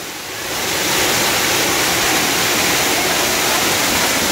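A waterfall roars in a steady, loud broadband rush close by, rising over the first second and then holding constant with no voices.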